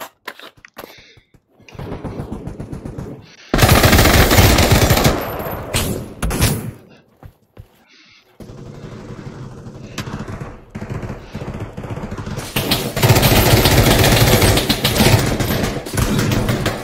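Automatic gunfire from a gun in the Pavlov VR shooter game, loud and close, comes in rapid bursts with brief pauses between volleys.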